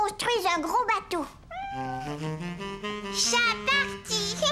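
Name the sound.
cat meowing in cartoon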